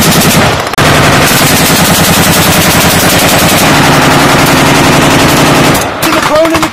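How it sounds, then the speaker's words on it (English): Sustained rapid gunfire during a U.S. Marines jungle warfare exercise, loud continuous automatic bursts filling the scene, briefly dropping out near the start and again near the end. "They start to return fire on your position."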